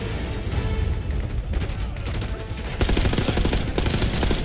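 Sustained cover gunfire in the Call of Duty Black Ops 6 campaign, dense overlapping automatic bursts and shots forming a loud, continuous fusillade that intensifies toward the end, with no talk over it.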